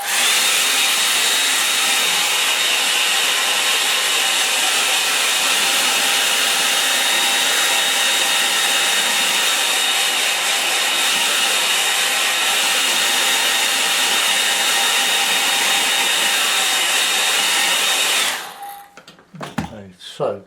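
A hair dryer blows steadily and loudly over a wet watercolour river painting for about eighteen seconds, a constant close whoosh that cuts off abruptly near the end.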